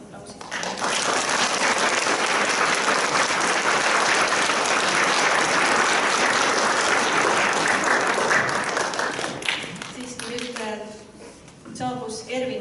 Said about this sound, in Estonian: Täname neid aplausid.